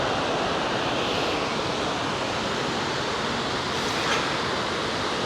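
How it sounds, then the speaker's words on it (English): Roar of the Savica waterfalls in Slovenia, a steady broadband rush of falling water seen from a viewpoint, continuous and fairly loud with no break, a faint gusty touch of wind near the end. "Two waterfalls down there, and it goes further down there as well."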